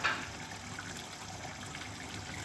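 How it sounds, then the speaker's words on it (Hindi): Water is poured into a pot on a lit gas stove for boiling rice for chicken biryani, giving a steady rushing, splashing flow that holds from start to finish without talk. "ये मैंने गैस ऑन कर ली और इसमें पानी डाल दिया है मैंने।"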